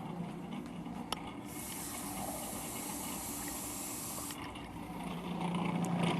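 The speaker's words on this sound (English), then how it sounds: "by adding more water into the feed tube, through the feed tube" Water streams into the feed tube of a Cuisinart 14-cup Elite food processor, a steady hissing pour that brightens for a few seconds in the middle, over a constant low motor whir.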